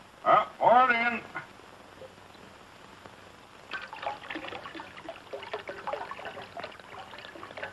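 Grape juice trickling into a bowl in a 1947 comedy scene, a brief voice first, then a quiet pause before a steady, close pouring stream with small splashes that runs to the end.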